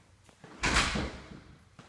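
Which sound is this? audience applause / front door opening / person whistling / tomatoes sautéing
front door opening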